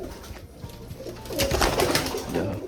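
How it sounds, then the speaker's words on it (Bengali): Pigeons being released from a loft coo nearby, soft throaty calls rising and falling over a hushed background, growing fuller and louder toward the end. "এই যে দেখো এখানে আরও পায়রা আটকানো আছে"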